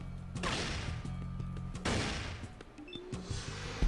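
Fallout gunfire rattles in repeated rapid bursts separated by short pauses, moderately loud, with a few single cracks scattered between the volleys.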